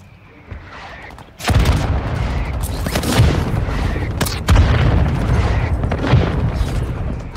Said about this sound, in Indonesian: Lah gua kena bom gua sendiri.